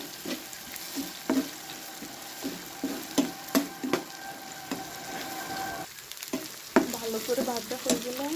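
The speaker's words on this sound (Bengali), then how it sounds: "রসুন বাটা, আদা বাটা, এগুলো দিয়ে ভালো করে ভেজে নিতে হবে।" Garlic and ginger paste frying in a pan, a steady close sizzle broken by repeated scraping stir strokes, with no speech over it.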